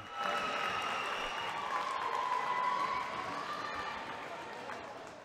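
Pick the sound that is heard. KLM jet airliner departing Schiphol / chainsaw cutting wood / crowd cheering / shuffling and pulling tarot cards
crowd cheering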